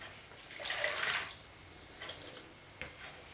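Warm water being poured for bread dough, a short hissing splash of about half a second that fades into a few faint drips and trickles in a quiet kitchen.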